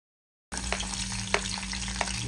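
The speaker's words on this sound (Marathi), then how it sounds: "त्याच तेलामध्ये आपण कांदा ऍड करणार आहोत" After a brief silence, onion drops into hot oil left from frying ivy gourd (tondli), setting off a loud, steady, close-up sizzle with a few faint stirring clicks.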